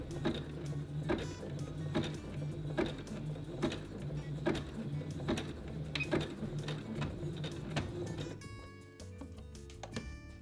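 A Juki HZL70-HW sewing machine stitches a button on in a steady run of rapid, evenly spaced mechanical clicks, close and fairly loud, ending with a brief lock-stitch burst before stopping.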